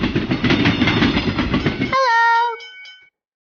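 A cartoon train rattles along with a busy rhythmic chugging, then the noise cuts off abruptly and a bright, multi-toned whistle blast sounds and fades away.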